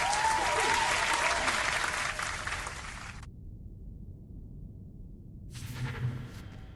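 Applause sound effect during a stream of the digital board game Dune Imperium: a dense burst of clapping and cheering for about three seconds that then cuts off abruptly, leaving quiet background noise.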